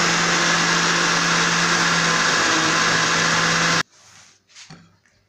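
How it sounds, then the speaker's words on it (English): A blender runs loud and steady, blending beans for moi moi, then cuts off abruptly near the end, leaving a few faint clunks. "So I'm going to give this a blend."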